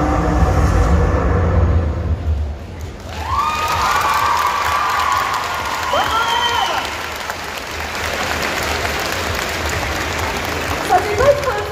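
An audience at a Bordeaux Geekfest cosplay contest applauds a cosplayer leaving the stage, dense clapping and cheering that dips briefly, then swells again with shouts and a voice over the crowd.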